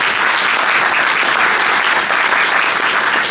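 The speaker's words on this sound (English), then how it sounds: "can we have a round of applause for that?" An audience gives a round of applause for an award winner named Emerging Leader at an industry awards event, a dense, steady clapping that holds loud and even from start to finish with no talk.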